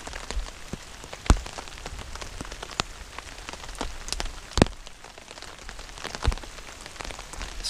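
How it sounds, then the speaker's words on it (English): Rain falling on a camping tarp during a thunderstorm, scattered close drops pattering and tapping at an uneven rhythm, with a few louder sharp hits, over a soft wash of rainfall. "listen to the rain on the tarp"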